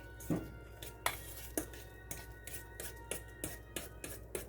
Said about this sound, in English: I'm just going to mash this up really good.